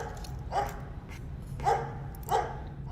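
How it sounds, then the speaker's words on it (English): Dogs at an SPCA animal shelter bark three times in a row, each bark loud and close with short gaps between them, over a low steady background hum. "Workers come in the morning to greet the dogs, and all of a sudden, the road isn't so quiet anymore."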